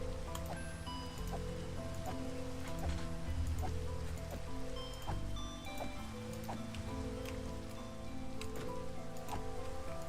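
Steady rain pattering in the Minecraft video game, with constant soft patter and scattered sharp ticks of drops over low, shifting background tones throughout.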